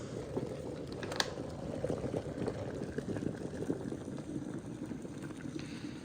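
A full kettle of hot water poured steadily into a tub of seedling potting mix, giving a continuous close gurgling, splashing rush throughout, with no talk.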